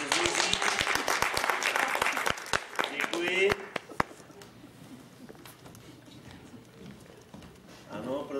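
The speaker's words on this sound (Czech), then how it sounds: "Prosím, zatleskáme jinak." Theatre audience clapping during an amateur stage show, loud sharp claps in the first few seconds that thin out and fade, then quiet room noise with some low murmuring near the end.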